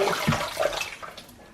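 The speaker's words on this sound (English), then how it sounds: "I'm going to wash it again until I'm happy it's clean." Cold running water splashes as raw food for kibbe naye is washed in a bowl, a continuous close rushing and sloshing that fades slightly toward the end.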